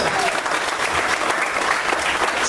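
A church congregation applauds steadily and fairly loudly, a dense wash of clapping sustained for a couple of seconds with no gaps.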